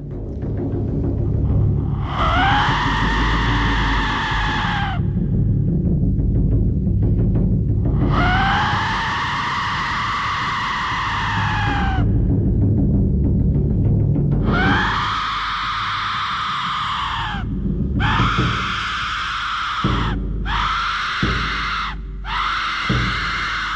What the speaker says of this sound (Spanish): el silbato de la muerte. Estos siniestros objetos tenían forma de calavera y emitía un espantoso sonido comparado comúnmente con el grito de una mujer siendo despellejada